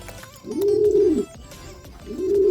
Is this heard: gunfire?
no